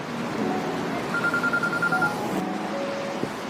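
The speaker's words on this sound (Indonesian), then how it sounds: "Won Bin pun mendapat telepon dari Oh Jin" A phone rings with a thin electronic tone, heard as a short string of beeps and a held pitch over a steady background hum, with no talking.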